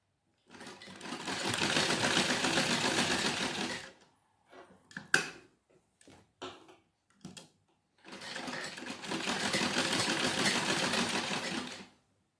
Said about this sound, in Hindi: ये वाला निशान ये ऐसे मिलाएंगे और इस तरह सिलेंगे।